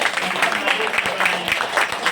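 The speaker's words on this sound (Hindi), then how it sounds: "इनके लिए जोरदार ताली बजाइए भैया।" Clapping from an audience at an outdoor Shiva bhajan gathering, a steady dense patter of many hands close by, with faint voices underneath.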